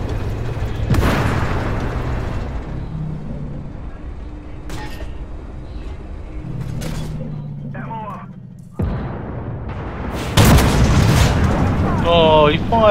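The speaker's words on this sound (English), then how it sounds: "Oh, he fires a missile at me." A missile fired at a tank in a tank combat video game, heard as booming blasts and explosion bursts over continuous rumbling engine noise, with someone talking throughout.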